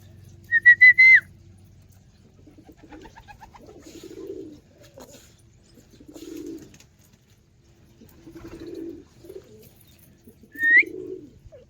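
Soft, low pigeon coos repeat several times at a slow rhythm as pigeons are fed grain, bracketed by brief sharper bird calls at the beginning and end.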